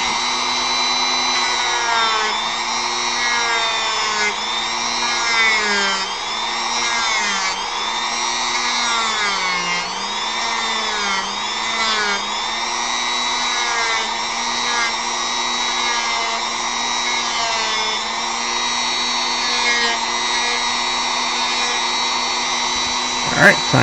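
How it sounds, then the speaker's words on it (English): A large drum sander works a carved wooden model's rear foot and lower leg, giving a steady, continuous whine with a shifting pitch as the piece is pressed against the drum. It runs loud and unbroken throughout. "Okay, big drum sander, you're up."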